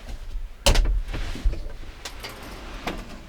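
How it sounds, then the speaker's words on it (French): A hinged shower door in a 2010 McLouis MC4 63 camper van shuts with a sharp clack, followed by a smaller knock and faint rattles. "Clac, en porte battante."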